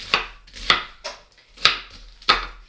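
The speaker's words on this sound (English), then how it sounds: "Bali, chop it up." Vegetables for Korean yaki mandu filling are chopped on a board in five sharp, evenly spaced knife strikes, close and distinct against quiet.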